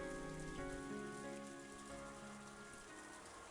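Steady rainfall on a surface in a rain-drenched rose garden scene from the Umineko visual novel, a continuous soft hiss of drops with faint tonal background music underneath and no voices.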